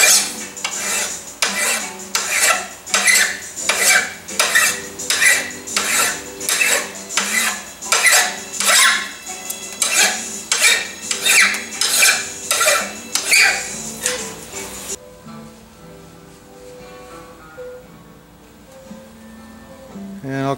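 Rhythmic metal rasping strokes of a file flattening a hammer face repeat steadily, about fifteen in a row, then stop, leaving a quieter hum and faint handling noises.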